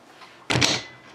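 A short, sharp bump on the camera beside an Acer Aspire One netbook, a single close thud with a brief rustle that quickly fades back to quiet room noise.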